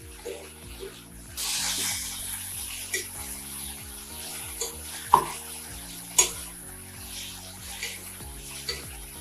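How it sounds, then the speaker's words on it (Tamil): Drumstick leaves are sautéed with grated coconut in a pan for chutney: soft sizzling and repeated scraping stirs with a few sharp spatula knocks, under steady background music. "கீரை நல்லா வதங்கி வரும்போது தேங்காய் போட்டு வதக்கணும்."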